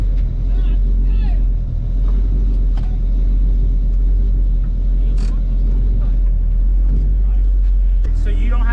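A K20 turbo Honda Civic wagon runs on a dyno against two-step launch control, a loud, steady low drone with sharp pops and crackles scattered through, and a voice speaking briefly near the end.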